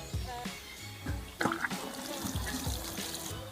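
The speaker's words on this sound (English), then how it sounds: "And now you put some water in." Water trickling and splashing as it is poured onto compost over freshly planted beetroot seeds, in short uneven bursts up close.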